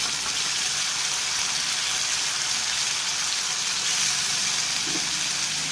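A steady, dense sizzle of onions frying in a hot pan for mutton keema curry, close and continuous, with no talking.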